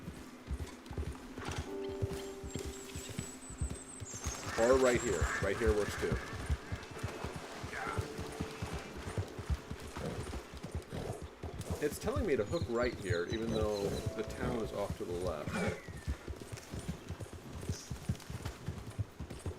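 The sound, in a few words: horse hooves clip-clopping in a Western video game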